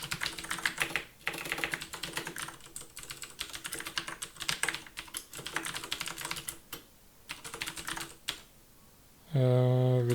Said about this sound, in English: What keys am I pressing right now?